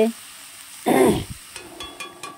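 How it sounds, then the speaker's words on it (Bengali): A short burst of sizzling as a spice mixture of onion, ginger and chilli hits hot oil in a pan, loud for a moment then fading into soft frying, with faint kitchen clatter after. "এই যে এবার এটা আমি পুরো তেলের ওপরে দেবো"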